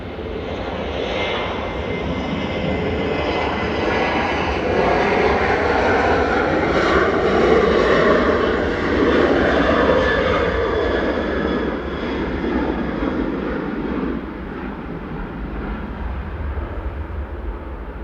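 A fixed-wing airliner passes at Manchester Airport with a loud, broad engine roar that builds, holds strongly through the middle and eases slightly near the end, heard alone without talk.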